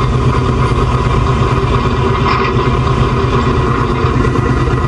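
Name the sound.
truck engine idling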